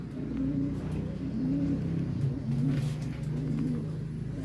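A racing pigeon returning to its loft after a race gives soft repeated cooing, close and rhythmic, over a steady low hum of background noise.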